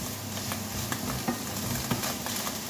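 Shallots frying in a pan for a morel mushroom sauce give a steady, soft sizzle with a few light clicks of stirring, fairly quiet and continuous, with no talking.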